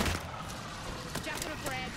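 Rapid video game gunfire crackles in dense bursts across the whole moment, mixed with game effects and a voice talking over it.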